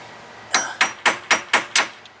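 A small hammer taps a torque bit on a 1988 Corvette six times in an even rhythm, each strike a crisp, close metallic clink with a short ring, with no talk.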